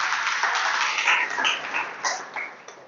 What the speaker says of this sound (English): Clap for yourself for the time being.